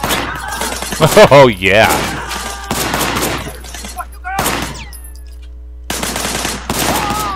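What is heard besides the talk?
gunfire in the video game Sleeping Dogs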